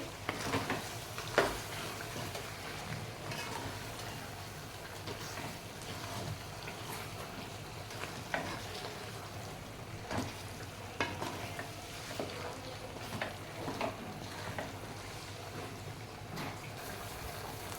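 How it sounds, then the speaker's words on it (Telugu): Gongura leaves being stirred into chicken in a pan, with a soft continuous sizzle under repeated scraping and stirring strokes at a moderate, uneven pace. "ఇప్పుడు ఈ గోంగూరని చికెన్లో కలిపేద్దామండి. ఈ గోంగూర అంతా కూడా చికెన్కి పట్టేటట్టుగా కలిపేసేయండి."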